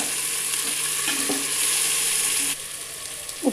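Onion, tomato and green chilli frying in a pan for chicken biryani, a steady close sizzle with occasional stirring scrapes, heard alone.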